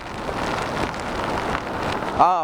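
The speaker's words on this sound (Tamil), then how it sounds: "சென்னை மெரினா கடற்கரையில் பலத்த காட்டுடன் மழை பெய்து வரக்கூடிய நிலையில்" Heavy cyclone rain lashes Chennai's Marina Beach in strong wind, a loud, dense, continuous hiss of downpour with a gusty swell near the end and no voices.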